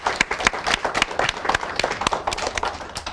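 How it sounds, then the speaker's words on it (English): A studio audience at an Indian TV talk show claps, sharp individual hand claps in an uneven rhythm rather than a full roar, fairly close and lively. "Big round of applause to that."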